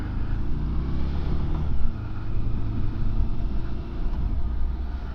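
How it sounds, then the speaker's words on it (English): A Morbidelli T1002V motorcycle rides at low speed, its engine a steady low rumble with wind buffeting, shifting smoothly into second gear with only a brief bump in the drone. "Well, that's a really smooth gear change, I have to say, even at that low speed."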